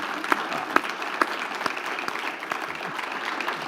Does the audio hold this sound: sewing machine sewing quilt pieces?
no